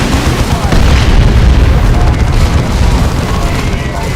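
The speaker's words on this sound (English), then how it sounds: "Orcs are firing." Orks firing weapons in the game Dawn of War 2, a dense continuous roar of gunfire and booming explosions, loud and close throughout with no breaks.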